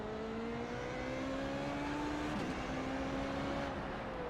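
Formula Renault 3.5 engine in iRacing at Watkins Glen pulls up through the revs in a steady rising whine, with a brief gearshift dip midway, heard quietly with no talk over it.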